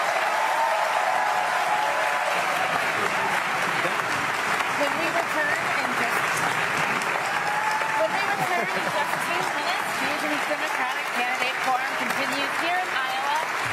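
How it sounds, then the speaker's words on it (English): A large crowd at a Bernie Sanders campaign rally at Drake University in Des Moines, Iowa, applauds continuously and loudly throughout, dense clapping mixed with cheers and scattered voices. "He got a big round of applause."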